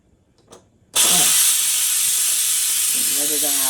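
Steam from a pressure cooker after cooking chili bursts out suddenly and hisses loudly and steadily as the release is opened, close and continuous, with a person speaking over the rushing sound.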